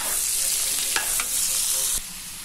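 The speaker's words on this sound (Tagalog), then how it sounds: "lagay na yung pork. Tapos igigisa ng maigi." Pork sautéing in a pan for kilawin, a loud close sizzle with quick spatula scrapes and stirs over a couple of seconds before it briefly softens.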